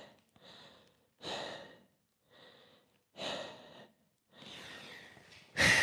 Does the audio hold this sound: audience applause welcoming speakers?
no